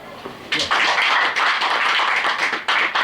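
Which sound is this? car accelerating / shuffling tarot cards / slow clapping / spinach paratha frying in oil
slow clapping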